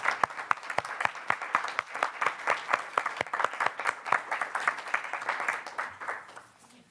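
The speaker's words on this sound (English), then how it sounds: "So another round of applause for all those." Audience at a school board meeting claps steadily for several seconds, a moderately distant round of applause that thins out and fades at the end.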